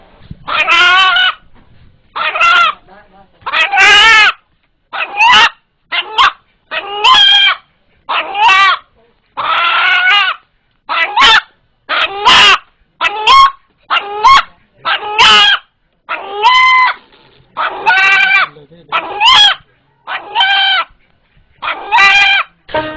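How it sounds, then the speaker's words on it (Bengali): A frightened rooster gives repeated harsh, strained crows one after another for the whole stretch, loud and close with brief gaps between, frantic in tone. "ভয় পেলে মোরগটি যেভাবে ডেকে ওঠে"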